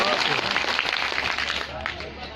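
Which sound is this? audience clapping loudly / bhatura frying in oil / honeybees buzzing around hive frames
audience clapping loudly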